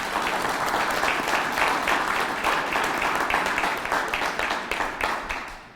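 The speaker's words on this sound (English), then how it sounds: "Let's give them a round of applause." A crowd at a police department press conference applauds the recruitment staff in a sustained, loud round of clapping that holds steady for several seconds, then gradually thins out.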